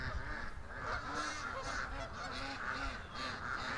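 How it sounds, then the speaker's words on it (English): Canada geese honk repeatedly in a steady, overlapping chorus at moderate distance, their nasal calls coming in quick rhythmic bursts over constant outdoor background noise. "There's our Canada geese."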